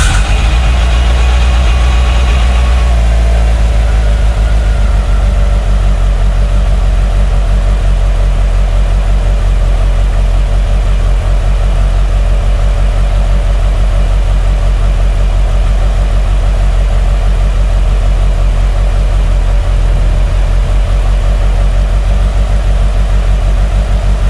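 A car engine with an Evo 8 exhaust manifold and FP Green turbo fires up with a brief rev, then settles into a loud, steady rumbling idle that carries on without a break.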